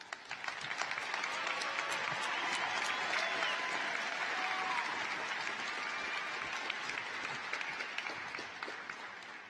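A high school graduation audience applauds after honor graduates are named, dense sustained clapping from a large crowd that swells quickly and holds at a steady level for several seconds before easing slightly.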